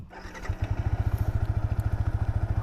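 A Yamaha R15 V3 motorcycle engine cranks and catches, then settles into a rapid, steady pulsing idle, close and loud.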